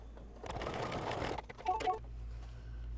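An embroidery sewing machine stitching a tulip placement line, a close burst of rapid mechanical chatter that pauses, gives a few clicks and ticks, and then falls quiet to a low hum.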